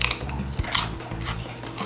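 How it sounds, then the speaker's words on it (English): Pop chips crunch loudly and closely during continuous chewing, a dense, crackly grinding that carries on for the whole short stretch. "Satisfying crunch."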